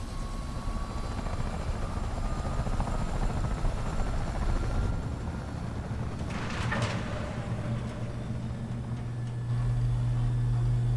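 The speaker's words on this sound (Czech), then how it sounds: "Kdo vlastně teďko lítá s tím vrtulníkem" A helicopter in the Wolfenstein 2 video game drones with a steady, loud rotor thump and engine hum that continues throughout, alongside faint in-game effects.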